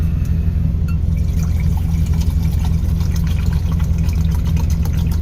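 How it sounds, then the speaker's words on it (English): Water pours steadily into a coffee brewer inside a truck, a continuous loud rushing fill with a low rumble underneath and no talking. "let's put some water in there."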